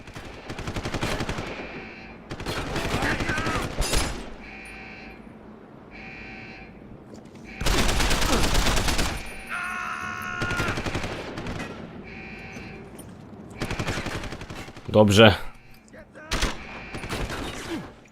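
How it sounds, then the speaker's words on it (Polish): Several bursts of rapid automatic gunfire in the video game Deus Ex: Human Revolution, loud and close, separated by short pauses, with someone speaking briefly. "Dwa strzały, jeden w głowę, drugi w korpus"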